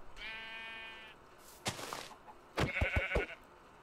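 Sheep in the Minecraft video game bleat several times, a long wavering bleat followed by a few short, sharper bleats, fairly quiet and alone with no talk.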